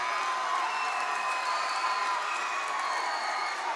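A crowd at a high school basketball game cheering and roaring continuously, loud and sustained as spectators stand in the closing seconds of a close game.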